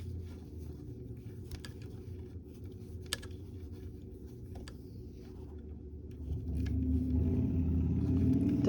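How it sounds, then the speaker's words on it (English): Motorcycle passing in the background during a crochet demonstration, a low engine rumble under steady room noise that swells louder toward the end, with a few faint clicks. "Sorry for that motorcycle noise in the background."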